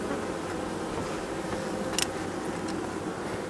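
A beekeeper's honey bees make a steady, dense buzzing that fills the whole stretch at a moderate distance, with one brief louder pass near the middle.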